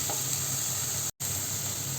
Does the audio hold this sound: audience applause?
no